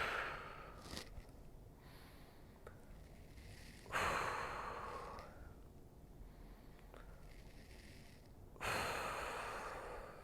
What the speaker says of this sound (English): Deep breath in, and exhale as you reach overhead.